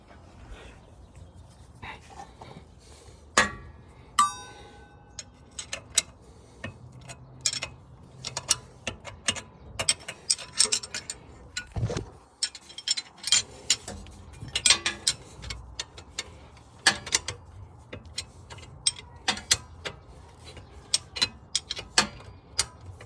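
A ratchet wrench tightens muffler-delete pipes on a BMW N54, giving irregular runs of quick clicking ticks up close, interspersed with metallic clanks and handling noise over a quiet background.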